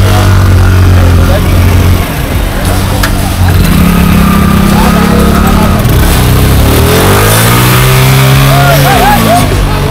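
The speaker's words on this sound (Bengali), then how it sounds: "বন্ধুরা অবশেষে আমাদের বাইক নৌকায় উঠছে।" Motorbike engine revving and idling loudly as the bike is loaded onto a river boat, with people talking close by throughout.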